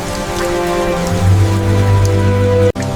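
Rain falls steadily on a restored Rolls-Royce Phantom II, a continuous soft patter with low sustained tones beneath it and a brief dropout near the end.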